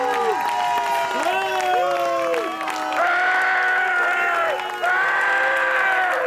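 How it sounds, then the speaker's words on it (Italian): A crowd cheers and claps at the Sant'Andrea di Campodarsego wine festival, with whoops and shouting over a sustained musical tone, loud and continuous throughout. "Fatelo sentire forte un applauso per Sant'Andrea di Campodarsego."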